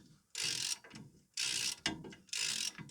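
A ratchet tightens a bolt on a Holden VY handbrake assembly, giving three loud bursts of rapid clicking with short pauses between strokes, close and alone.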